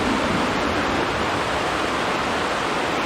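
Heavy rain drumming on the plastic cover of a high tunnel greenhouse on a homestead vegetable farm, a loud, dense, unbroken roar filling the space without pause.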